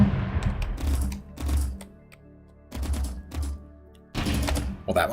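A Type 27 heavy cannon in the Sublight video game fires in several bursts of heavy, thudding shots separated by brief pauses, loud and punchy.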